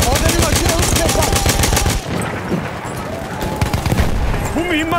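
Enemy machine gun in a World War I game battle at Achi Baba, rapid loud bursts of automatic fire for about two seconds, then scattered gunfire and distant shots continuing over battlefield noise.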